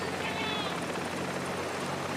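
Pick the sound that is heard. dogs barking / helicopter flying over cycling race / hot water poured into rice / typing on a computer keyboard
helicopter flying over cycling race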